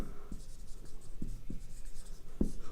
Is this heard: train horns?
no